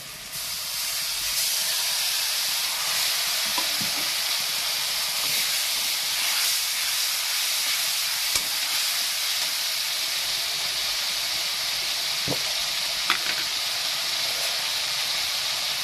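Steady loud hiss and sizzle from a small splash of water added to spiced masala in a hot pan while cooking a drumstick and potato curry, continuous throughout with a few faint clinks.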